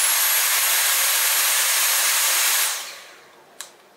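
A Dyson V8 cordless stick vacuum runs at max suction with a loud, steady, close-up high-pitched whine and rushing air, then winds down into quiet, followed by one brief click.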